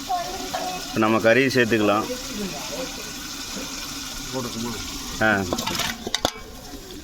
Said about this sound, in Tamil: கறி போட்டு நல்லா கிளறி விட்டு நல்லா வேக விடணும்